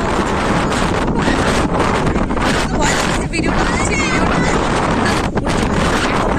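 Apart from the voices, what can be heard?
strong wind blowing while travelling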